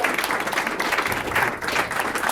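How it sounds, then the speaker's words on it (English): Audience applause at a live comedy show at a comedy club, a steady, dense wash of clapping filling the room at close range, holding even throughout with no talk over it. "Ladies and gentlemen, round of applause for Fisher."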